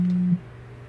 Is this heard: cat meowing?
no